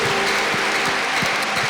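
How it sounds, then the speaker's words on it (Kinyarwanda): A church congregation claps steadily for a preacher, with dense, continuous applause at an even volume throughout the short stretch. "Give him a round of applause."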